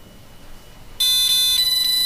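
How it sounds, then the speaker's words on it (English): A Dynam electronic speed controller for an E-Razor 450 helicopter, in programming mode for the brake setting, emits a loud, steady electronic tone after a quiet second, broken into a few short pulses with brief gaps. "That's the first four beeps for the brake."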